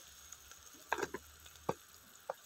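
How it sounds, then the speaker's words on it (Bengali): Masala spices with turmeric, chili powder and salt frying in a pan, a faint sizzle broken by a few soft scrapes and clicks of stirring. "সবকিছু দিয়ে মশলাটাকে ভালো করে কষিয়ে নেব।"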